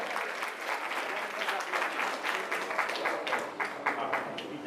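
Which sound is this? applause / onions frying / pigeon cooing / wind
applause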